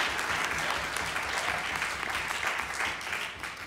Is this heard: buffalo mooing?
no